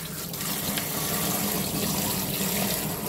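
Sangchu lettuce leaves rinsed gently under running tap water at a sink, a steady close splashing flow with no pauses.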